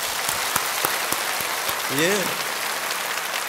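Small church congregation clapping loudly and steadily to welcome a newcomer, with a brief voice interjection partway through.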